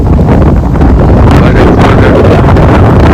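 Strong wind roars and buffets across a rooftop during a sudden rainstorm, a loud, constant gusting rush that blasts the microphone with no pause.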